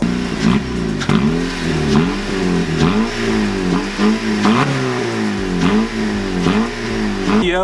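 A Honda Accord engine revs repeatedly through an aftermarket exhaust, its rumbling pitch climbing and falling in steady waves, loud and close throughout.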